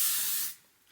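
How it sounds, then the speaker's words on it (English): An aerosol hair styling spray is misted into hair in one close, loud hissing burst about half a second long, then cuts off and leaves near silence. "It is an aerosol spray. I'm just going to spray it into my hair"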